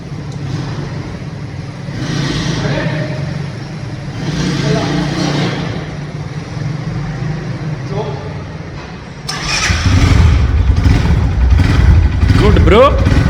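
A Road Prince Wego moped, freshly rebuilt with fuel just reaching its carburetor, coughs into life partway through and keeps running with a loud, rough idle. People talk throughout, before and over the engine.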